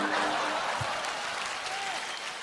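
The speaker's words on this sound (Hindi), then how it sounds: "एक ही ताली बजी है, बड़ा अच्छा लग रहा है।" Audience applause at a Kapil Sharma comedy show, a steady wash of clapping heard close and fairly quiet, with speech faintly mixed in.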